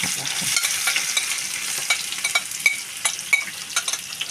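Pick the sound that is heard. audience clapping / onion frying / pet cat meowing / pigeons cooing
onion frying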